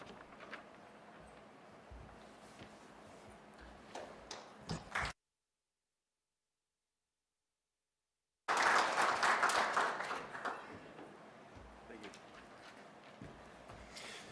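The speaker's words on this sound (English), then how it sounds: "Thanks for clapping, Adam." Scattered applause from a forum audience at an energy event, a light smattering first, then a sudden loud burst of clapping after a gap that gradually thins out.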